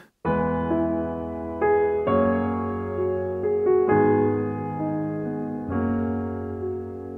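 Solo piano track playing sustained chords and melody, close and clear, with new chords struck at steady intervals and long ringing decays between them; no voices.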